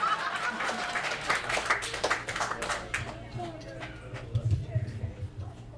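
A stand-up comedy audience at a comedian's show claps in a loose, sustained patter with scattered laughter, moderately loud, with a voice speaking over it.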